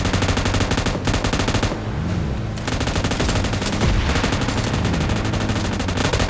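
Rapid automatic gunfire from the PUBG Mobile video game, dense bursts rattling almost continuously with a short lull near the two-second mark, loud and close, with no talk.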